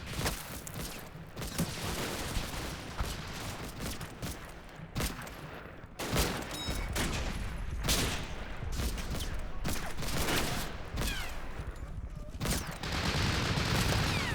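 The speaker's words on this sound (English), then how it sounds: "look at that 30 firing out of the window" A .30 cal machine gun firing from a window in the WWII strategy game Combat Mission: Battle for Normandy, sustained distant bursts and scattered shots over a constant battlefield din, with a few sharper cracks.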